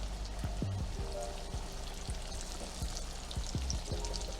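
Chicken fried steak fries in hot oil in a pan, giving a quiet, steady sizzle with scattered pops and crackles, no talking.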